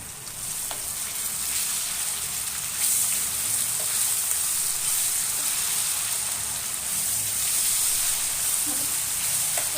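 Chopped onions with salt fry in a pan for avarebele uppittu, giving a steady, close sizzle with a bright hiss that holds evenly throughout.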